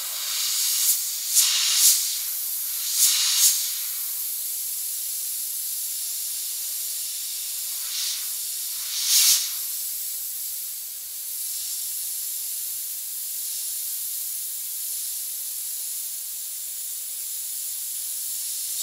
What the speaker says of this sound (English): I'm going to bring the airbrush in closer.